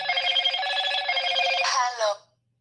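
A Motorola mobile phone rings loudly and close by with a bright, melodic electronic ringtone that carries for about two seconds before cutting off into silence.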